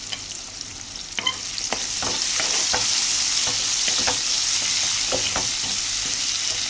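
A curry frying in a pan and stirred, giving a continuous close sizzle that swells after a couple of seconds, with repeated clicks and scrapes of a spoon against the pan throughout.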